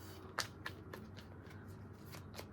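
Tarot cards are shuffled quietly in a series of soft, crisp riffling bursts, spaced irregularly, with no talking.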